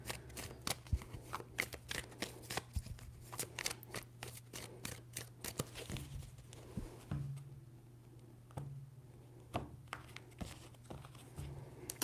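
Tarot cards are shuffled repeatedly at close range, a rapid riffling patter in several bursts with brief pauses between them.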